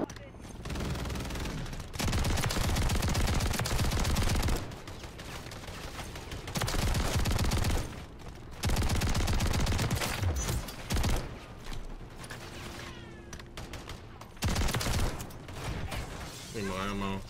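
Loud bursts from the Jak Maglift Haymaker automatic shotgun in Call of Duty: Modern Warfare III come in long rapid volleys, broken by short pauses, with mechanical clatter and a player talking in between.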